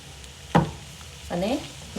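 Sabudana khichdi stirred in a pan as chopped coriander is mixed in, with one sharp scrape followed by a longer squelchy mixing stroke over quiet background hiss, no speech.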